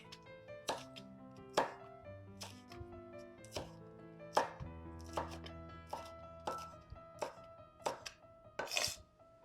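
A knife chops cabbage for pickling on a board, cutting a head in half among scattered sharp thuds and clinks of dishes, close and fairly quiet, with no speech.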